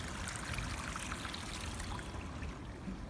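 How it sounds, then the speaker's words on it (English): Water from an ancient irrigation channel trickles and pours into a creek-side river, a soft steady babbling stream held close and even for a few seconds with no voices. "trickling into the main river"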